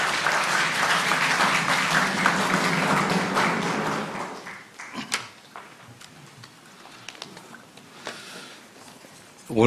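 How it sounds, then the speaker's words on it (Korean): Warm audience applause at the opening ceremony of a Korean policy forum greets a keynote speaker, a dense, loud wash of clapping for about four and a half seconds before dying away into scattered claps and room noise. "따뜻한 박수로 맞이해 주시기 바랍니다."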